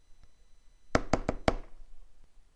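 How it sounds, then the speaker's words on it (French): Four sharp knocks on a door in a quick, slightly uneven sequence, close and crisp against a quiet background. "Il frappe à la porte."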